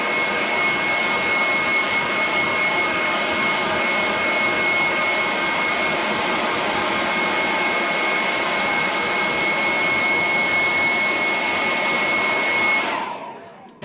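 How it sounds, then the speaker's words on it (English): A hairdryer set to high heat blows with a loud, steady whooshing roar and a thin motor whine on top, running unbroken for about thirteen seconds before switching off and winding down. "I'm going to hit it with the hairdryer. High heat."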